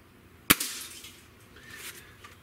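A Gamo Hornet Maxxim IGT .177 air rifle fires once, a single sharp loud crack close by followed by a short fading ring, then quiet background.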